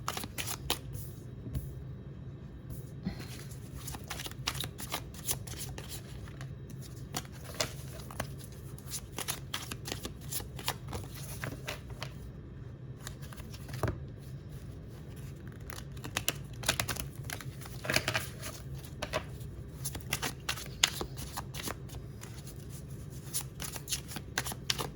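Oracle cards with spiritual messages being shuffled, a steady stream of dense papery riffles and slaps running the whole time at close range, with no voices.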